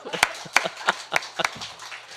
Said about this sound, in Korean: 박수 한번 그럼 박수 아유.